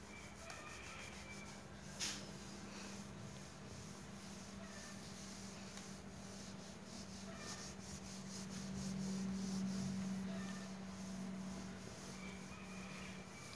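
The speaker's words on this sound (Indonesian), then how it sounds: "Kemudian disetrika untuk menghilangkan kerutan pada jahitan biar hasilnya lebih halus" A clothes iron slides and rubs steadily over the sewn seams of a fabric camisole or bustier, set to a moderate heat, making a soft continuous scraping swish over a low hum with a brief knock near the start.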